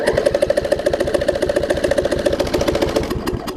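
A Craftsman riding mower's small engine runs steadily at idle, close up and loud, with a rapid pulsing chug and a slight rough knock throughout, no talk.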